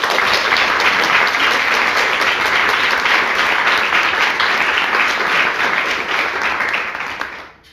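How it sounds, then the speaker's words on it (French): An audience at an evening event applauds loudly and continuously, a thick even wash of clapping that fades away at the very end. "On peut les applaudir."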